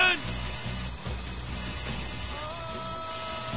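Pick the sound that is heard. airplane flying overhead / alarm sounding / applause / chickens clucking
alarm sounding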